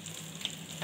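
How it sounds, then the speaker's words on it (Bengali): An egg chop fries gently in a little oil, giving a soft, steady sizzle that stays faint and even throughout. "যেহেতু এটা কম তেলে ভাজা হচ্ছে"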